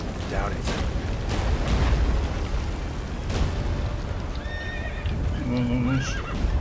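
In The Witcher 3 video game, the horse Roach gallops with a loud whinny and hoofbeats amid battle explosions, while voices shout over the action.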